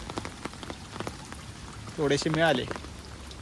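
Heavy monsoon rain pours steadily onto a flooded river where fish are being netted, a constant broad hiss under a person's brief speech.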